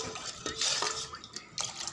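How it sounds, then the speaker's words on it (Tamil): Spoon stirring rock salt and ground pepper into amla juice in a vessel, with brief close clinks and liquid swishes. "இப்போ இதுக்குள்ளே இந்து உப்பு, மிளகுத்தூள் போட்டு கலக்கிக்கலாம்."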